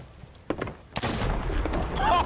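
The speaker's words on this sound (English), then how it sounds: "I just shot across the whole island and hit Ange." Gunfire in the Sea of Thieves pirate game, a sharp crack followed by a louder booming shot and a rumbling tail, with game ambience and a faint tonal effect after.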